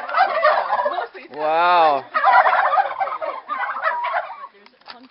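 A flock of turkeys on a farm gobbles nearby in rapid, rattling bursts, with one long warbling call in the middle; a voice briefly exclaims over them.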